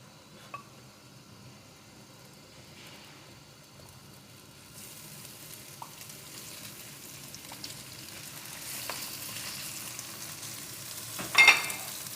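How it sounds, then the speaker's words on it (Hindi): Khoya roasting in a pan for carrot halwa gives a soft, steady sizzle that swells slightly toward the end, with a few faint scrapes and clinks of stirring. "पहले खोए को हम लोग भून लें।"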